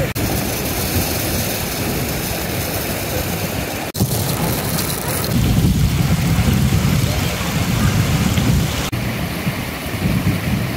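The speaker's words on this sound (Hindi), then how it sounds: "बारिश हो गई बहुत तेज।" Heavy rain pours down beside a village river as a dense, loud roar. There are a couple of sharp cracks and low rumbling swells, with no voices heard.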